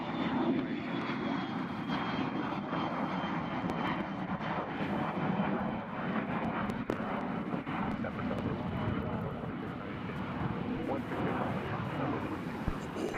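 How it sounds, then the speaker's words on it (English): A jet airliner takes off at Nashville International Airport, bound for St. Louis, its broad engine roar holding steady and loud throughout with a faint talking voice underneath. "Plane taking off right now is going to St. Louis."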